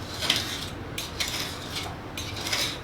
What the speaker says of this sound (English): So all you need to do is take your pen knife, scrape out the silicone.